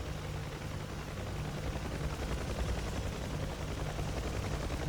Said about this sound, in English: So we've got the left-hand gunner shooting at somebody.